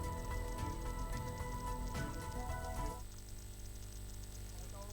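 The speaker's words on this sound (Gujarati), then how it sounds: "બાપુનગર નારોલ નરોડા વિસ્તારમાં પણ ધોધમાર વરસાદ" Steady, dense monsoon downpour pattering on a surface in Ahmedabad, continuous throughout, slightly quieter and thinner in the last couple of seconds.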